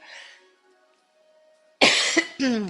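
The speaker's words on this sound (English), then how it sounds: "I hope I didn't cough too loud for you" Two sharp, loud coughs close by, following a quiet stretch with faint murmuring.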